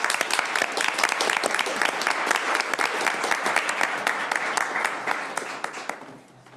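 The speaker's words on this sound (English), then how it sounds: "So a round of applause," A room full of people at a commission meeting breaks into sustained, dense applause, steady and loud for about six seconds before tapering off at the end.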